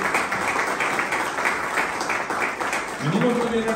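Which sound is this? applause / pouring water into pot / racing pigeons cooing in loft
applause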